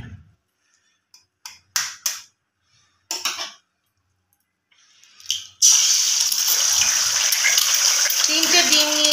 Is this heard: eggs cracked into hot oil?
yes